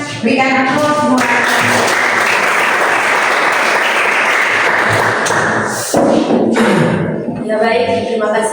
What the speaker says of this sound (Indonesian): Ya, semua berikan aplaus semua